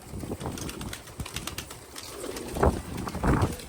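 A flock of pigeons released from a net coos and rustles nearby, with soft wing flutters and a couple of louder bursts of movement toward the end, with no talking.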